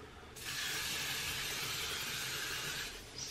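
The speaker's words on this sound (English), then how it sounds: "I'm just spraying my hair with this" An aerosol spray hisses in one continuous burst for nearly three seconds, close by, followed by a short second puff.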